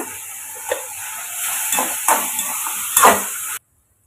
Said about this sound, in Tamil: அதை நல்லா வதக்கி எடுத்துக்கலாம் ஒரு ரெண்டு நிமிஷம்